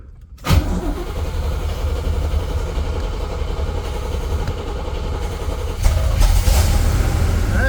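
Classic Corvette engine fired up after a carburetor rebuild, a sharp crank at the start catching into a loud, rough running rumble that holds steady and then swells again near the end.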